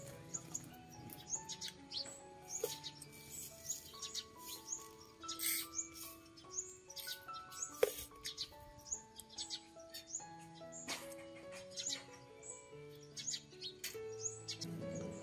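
Young scarlet minivet birds chirping in a captive setting, a busy stream of short, sharp tweets and calls overlapping at close range, with no voices.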